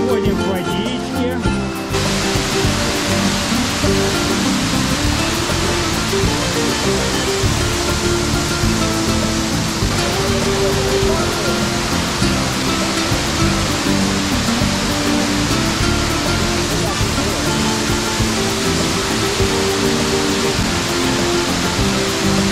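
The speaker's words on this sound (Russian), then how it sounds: "Водопад. Каньон Ардеса." A waterfall in Spain's Ordesa canyon roars as a loud, steady wash of white noise for the whole stretch, close by and unbroken, with a brief rustle at the start.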